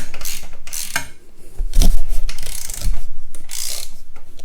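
A wrench ratchets in quick, uneven bursts, tightening a bolt on a Yoshimura RS-9T full exhaust on a 2022 Honda Grom, with clicks and metallic rubbing heard close up and no talking.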